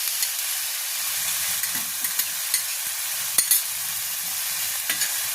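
Grated tomato paste sizzles and fries in a pan for a duck egg curry while a spoon stirs it, giving a constant bright crackle with occasional scraping knocks close by.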